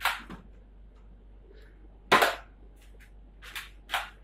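An X-Shot ZURU toy gun fires a few sharp, snappy shots separated by quiet gaps, each a short crisp pop with a light clack, close and clear in a quiet room.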